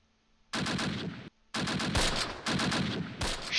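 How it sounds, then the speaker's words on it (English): Infantry gunfire in Close Combat, a Normandy battle of 1944, heard as loud, dense bursts of rifle and machine gun fire in several clustered volleys with short gaps between them. "Shots fired."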